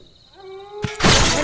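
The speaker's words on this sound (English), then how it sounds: "I hit a bomb." A bomb struck in Fruit Ninja VR sets off a sudden loud burst of noisy crackle that swells and sustains to the end, following a thin rising electronic tone.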